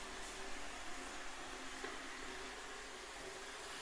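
An iRobot Roomba 690 robot vacuum cleaner running indoors, a steady faint whirring hum with no talking.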